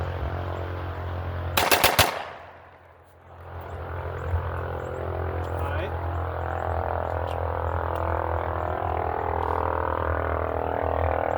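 A Glock pistol with a forced reset trigger fires a very fast, loud burst of several shots in quick succession, then a droning hum continues afterward.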